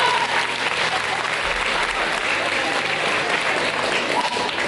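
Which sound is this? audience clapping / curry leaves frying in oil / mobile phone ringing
audience clapping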